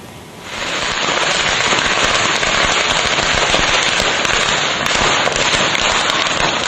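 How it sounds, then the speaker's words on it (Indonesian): Thousands of firecrackers carried on a motorbike in Banyumas, Central Java, go off at once in a loud, close, unbroken barrage of dense crackling that starts abruptly and keeps going without pause. "Ribuan petasan yang dibawa motor di Banyumas, Jawa Tengah tiba-tiba meledak."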